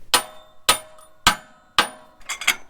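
Bolts being tightened on a Case 770 tillage disc: four loud, evenly spaced metallic clanks close by, followed by a quick rattling cluster of lighter knocks.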